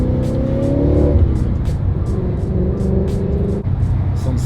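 An 800 BHP supercharged Ford Mustang convertible, driven top down, revs its exhaust: a loud, close, rumbling engine note rising and settling with throttle, with a brief dip near the end.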